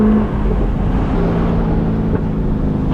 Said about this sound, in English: Gosh, this car just sounds so good.